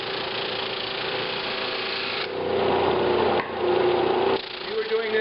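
Flatmaster drum sander working through glue and knots in a wood board, giving a steady broadband rasping hiss that swells louder in several passes, close and continuous with no talk.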